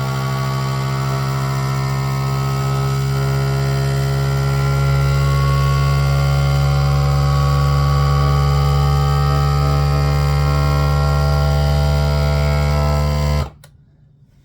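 A vacuum sealer pump gives a loud, steady electric drone with a constant buzzing hum for several seconds, then cuts off abruptly near the end.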